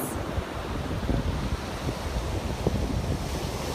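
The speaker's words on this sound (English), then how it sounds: "It's kind of an interesting day here on Sanibel with the winds and the waves." Wind and surf on a beach at Sanibel, a steady broadband roar of breaking waves and gusting wind buffeting the microphone, continuous and fairly loud with no voices.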